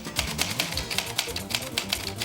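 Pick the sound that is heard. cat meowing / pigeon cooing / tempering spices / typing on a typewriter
typing on a typewriter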